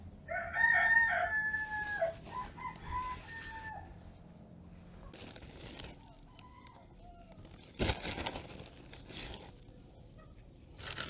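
A rooster crows loudly near the start, followed by scattered clucking and rustling from chickens pecking at worms nearby, with a few more faint calls later.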